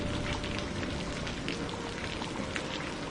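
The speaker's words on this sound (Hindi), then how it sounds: "बाहर अब भी जोरदार बारिश हो रही थी।" Steady, dense rain pours down without a break, a broad hiss of drops drumming on surfaces close by.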